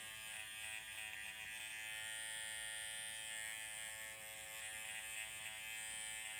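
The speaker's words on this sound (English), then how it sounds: "Using a lot of my corners of my clipper right now." A hair clipper buzzes steadily and close up as it cuts and blends blond textured hair, its even electric hum continuous with no talking.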